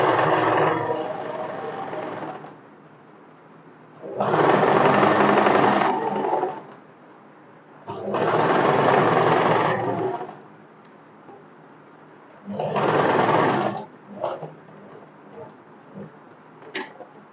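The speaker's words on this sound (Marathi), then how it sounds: "हे बघा, अस्तरच्या एकदम कडेने अशी दाब शिलाई यायला पाहिजे." A sewing machine top-stitches along the edge of the lining on a cotton one-piece summer dress, running in four close bursts of about two seconds each, separated by pauses with light handling sounds.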